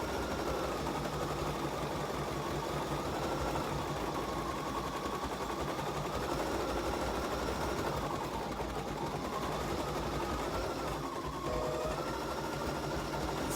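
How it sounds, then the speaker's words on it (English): An embroidery machine runs a cut steadily for the whole stretch, a continuous mechanical whir with a gently wavering pitch and a faint hum underneath, no speech. "start my machine again and let it do the number 4 cut"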